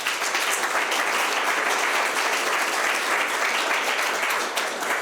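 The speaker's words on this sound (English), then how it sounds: "you're giving them a warm welcome and then a gratitude, gracious clap." A spring speech contest audience gives a warm welcoming round of applause, a dense, steady clapping that fills the whole stretch at even loudness.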